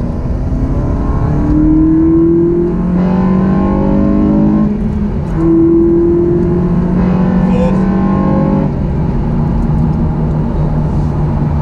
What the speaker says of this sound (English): It's a Dodge Challenger. Beaut. Hit it again, third gear.